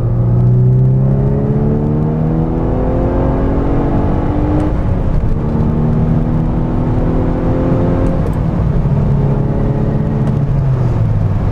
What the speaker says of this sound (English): This also releases all the boost pressure that was built up and requires the turbo to spool up all over again at the beginning of each gear, like so.